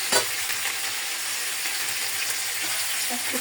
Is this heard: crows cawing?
no